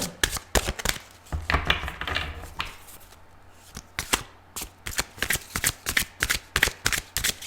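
Playing cards shuffled repeatedly, a fast riffling burst followed by sharp, rhythmic snaps and flicks close to the listener, with a brief quieter pause midway.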